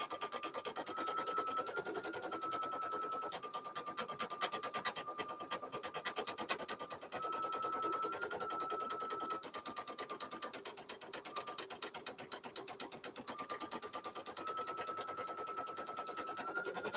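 An embroidery machine stitches a bunny design, its needle chattering in a fast, steady close-up rhythm with a recurring higher mechanical whine that fades in and out over the run.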